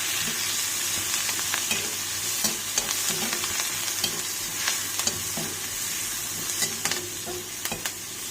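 Onions, crushed garlic and a sprig of curry leaves sautéing in hot oil, a steady bright sizzle with frequent scraping stirs of a spatula against the pan, close and continuous with no talk.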